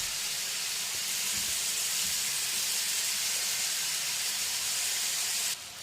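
Chicken tikka pieces sizzle in a hot pan as a steady, fairly faint hiss, with no speech.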